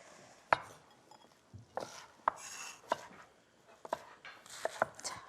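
Knife chopping enoki mushrooms on a cutting board into 3 cm lengths, a series of sharp, close knocks at irregular intervals with quiet gaps between.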